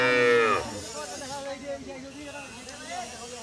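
A cow gives one loud, long moo close by at a cattle market in Khochabari, Thakurgaon, followed by someone talking amid a murmuring crowd.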